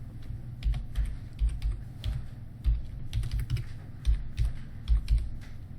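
Rapid clicking of computer keys being typed on a keyboard, steady bursts of close, crisp keystrokes with brief pauses between runs.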